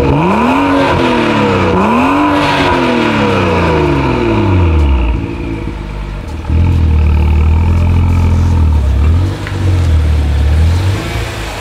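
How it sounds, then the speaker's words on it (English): A BMW with an M Performance exhaust revs repeatedly, rising and falling in loud throaty pulls with deep burbling between, close by and with no voices. "This thing has an M Performance exhaust."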